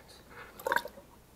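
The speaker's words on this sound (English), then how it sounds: "And it might splash a little bit." A kombucha SCOBY drops into sweetened tea in a glass jar, giving one short, soft wet splash with a brief squishy slosh, close and fairly quiet.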